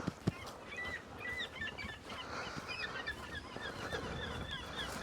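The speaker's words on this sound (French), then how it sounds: "Et on entend beaucoup le bruit des oiseaux." Birds call in scattered short chirps and honks against a steady outdoor hiss in a quiet sanctuary in northeastern Norway, moderately distant and fairly faint, with no talking.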